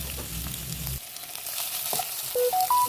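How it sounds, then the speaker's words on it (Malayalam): Onion sautéing in hot oil with garlic and green chilli gives a steady, close frying sizzle, with a few faint clinks and a brief rising tone near the end. "ആ ഒരു സവാള നമുക്ക് ഇതിലോട്ട് ഇട്ട് കൊടുക്കുക കേട്ടോ."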